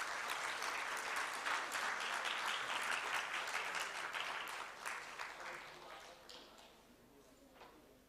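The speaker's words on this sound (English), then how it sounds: "Can we have a huge round of applause?" Audience applause fills the hall at the 13th IASTAM Oration and Awards Function, a dense, steady clapping from a large crowd that holds strong for several seconds before thinning and fading toward the end.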